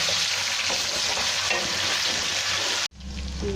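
Marinated chicken frying in hot oil, a steady, dense, loud sizzle that runs continuously close up, then briefly cuts out before resuming, with no voices.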